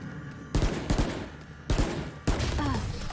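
Video game gunfire in a round-based shooter match: three or four sharp, loud shots spaced unevenly across a few seconds over a steady background bed, with no talking.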